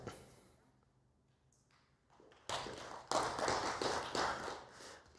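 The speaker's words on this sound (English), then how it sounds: "Don't clap your hands, you don't mean it" After a near-silent pause, an audience at the end of a talk starts clapping hands, sparse at first then a fuller burst of applause, fairly faint overall.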